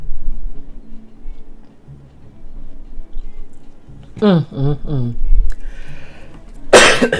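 A single loud cough bursts out near the end, after a stretch of quiet room noise and a few brief voiced sounds.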